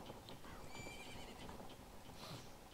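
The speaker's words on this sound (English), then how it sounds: "That's a cool looking horse." Video game horse on a ranch in Zelda Majora's Mask gives a quick neigh over soft clip-clopping hooves, brief and fairly quiet.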